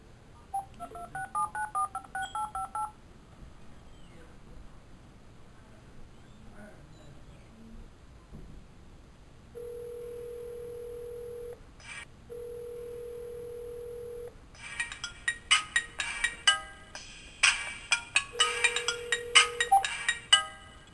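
A phone call is placed, with a quick burst of keypad dialing tones, then two long, steady ringback tones separated by a short gap, followed by a custom ringtone playing as a bright, busy melody.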